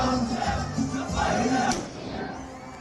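Large crowd at a funeral procession in Lebanon for people killed in pager explosions, a dense mass of chanting, shouting voices in rhythmic waves, loud and continuous before easing slightly toward the end.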